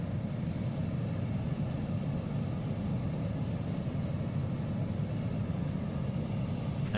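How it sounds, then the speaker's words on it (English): A Honda's blower motor fan runs steadily after a heater repair, a constant, even whooshing hum that stays the same level throughout with no voices. "I was able to get the fan back up and running again"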